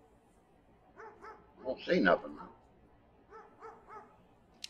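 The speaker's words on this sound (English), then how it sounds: "What are the dogs barking at?" Dogs bark in short bursts from outside in the horror video game House On The Hill, with a cluster of yips and whimpers in the middle, while a person talks over the sound.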